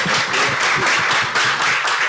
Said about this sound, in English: A round of applause to our panelists here.